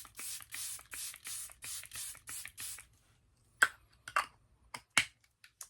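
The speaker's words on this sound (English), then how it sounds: "We're going to go ahead and finish off with the Airbrush Flawless Setting Mist." A bottle of Charlotte Tilbury Airbrush Flawless Setting Mist sprays eight quick, close puffs in a steady rhythm. Silence follows, then a few sharp clicks and taps.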